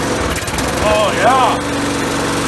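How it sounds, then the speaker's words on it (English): A lawnmower engine on half choke is cranked over with a drill used as an electric starter, giving a steady buzzing whir up close, with a brief spoken exclamation in the middle. "Go ahead and use the drill as an electric start."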